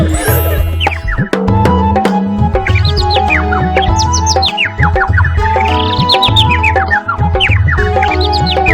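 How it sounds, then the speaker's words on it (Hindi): Chirpy bird tweets woven through a cheerful Hindi children's rhyme about a sparrow, sounding as repeated rising whistles over steady, loud musical accompaniment throughout. "चू चू करके हमें जगाती।"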